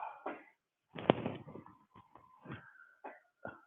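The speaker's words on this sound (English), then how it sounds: "my daughter's coughing" A child coughs in a quiet room: several short, irregular coughs and throaty bursts spread over a few seconds, close by and moderately loud, with brief pauses between.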